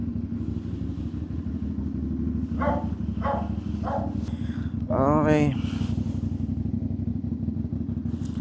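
A 450 SR motorcycle idles with a steady low engine drone throughout, while a dog barks several times and a person speaks briefly.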